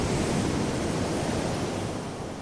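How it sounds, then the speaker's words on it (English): Big waves from rough Indian Ocean seas breaking on a beach, a loud continuous roar of surf with dense broadband wash and no distinct individual crashes or voices. "big waves coming onto the beach."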